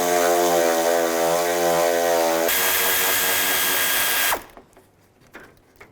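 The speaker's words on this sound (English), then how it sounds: "Use a 10mm socket, take those 2 bolts out." A power tool spins a 10mm socket to back out bolts on a 2006-2011 Cadillac DTS during an engine mount job, giving a loud whirring whine that shifts pitch partway, then cuts off abruptly into quiet.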